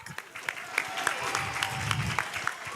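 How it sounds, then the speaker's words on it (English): A school audience claps for the contestants at an English program exhibition day competition, giving brisk, crisp applause from many hands at moderate loudness, with a low crowd murmur underneath. "Once again, clap hands for all the contestants."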